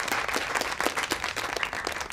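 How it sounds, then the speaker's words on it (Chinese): A group claps in applause to welcome guests at a business meeting, a dense steady patter of hands lasting a couple of seconds at moderate loudness, with no speech over it. "来，大家鼓掌，欢迎欢迎。"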